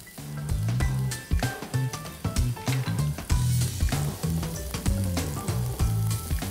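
Onions sizzling and frying in a pan with garlic already browned, a steady crackling sizzle with stirring clatter and scraping throughout, close and fairly quiet.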